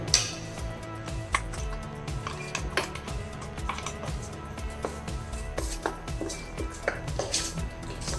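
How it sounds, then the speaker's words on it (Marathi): Mung dal batter being mixed with a ginger mixture in a bowl, giving repeated close scraping and stirring clatter with occasional sharp utensil knocks against the dish, steady throughout. "आता हे मिश्रण आपल्याला यात मिक्स करायचंय"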